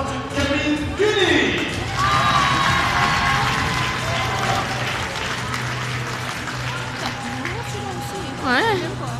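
Crowd at a Gottéron hockey arena applauds and cheers as players are introduced, a steady wash of clapping and murmur under an announcer's voice, with whistles and shouts rising near the end.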